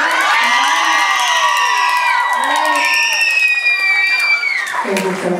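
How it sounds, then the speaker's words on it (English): Children and a crowd cheer and whoop loudly and continuously at a youth awards ceremony, with high excited shouts dominating and talk mixed in throughout. "Let's clap."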